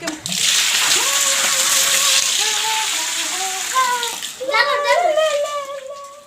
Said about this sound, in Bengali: কলসি দিয়ে জল দিয়েছি